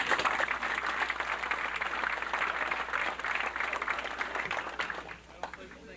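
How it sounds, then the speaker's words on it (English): Audience applause fills a 1993 football banquet in Summit, New Jersey: steady, dense clapping from a crowd that carries on for several seconds and tapers slightly at the end. "deserve a round of applause again."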